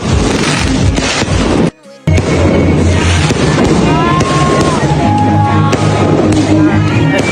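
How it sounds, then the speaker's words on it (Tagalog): Dense crackling bursts and booming pops of fireworks going off continuously at a birthday celebration, loud and close, with crowd noise underneath and a brief gap of silence. "At may pa-fireworks pa sila"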